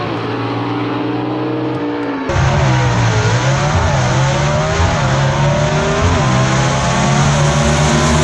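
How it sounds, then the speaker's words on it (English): Gasser drag race cars roar off the line at a drag strip race, engines revving hard with tire squeal as a sharp, louder surge cuts in after two seconds and holds at full blast. "Good lead by both drivers. Look at the wheels up just like Quayne Stott wants it."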